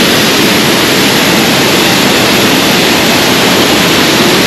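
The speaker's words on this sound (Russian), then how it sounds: "Вот такой вот красивейший водопад, венец, так сказать, данного места." Waterfall roaring at the mountain village of Tkhagabsh near Sochi, a dense, loud, unbroken rush of falling water that fills the whole clip with no other sounds.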